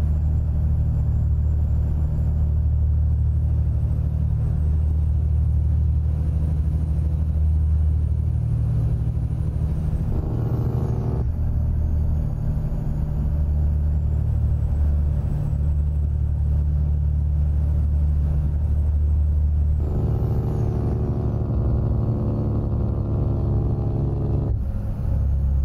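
Steady low engine rumble of a heavy truck cruising in American Truck Simulator, droning continuously with brief shifts in tone where gears change, heard close and alone without talk.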